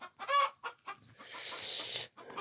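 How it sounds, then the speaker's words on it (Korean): Native Korean hens and a rooster at a rural stone-walled earthen house in Jirisan, giving several short close clucks followed by a longer raspy squawk, with no speech. "이게 토종 우리나라의 암탉과 수탉이랍니다."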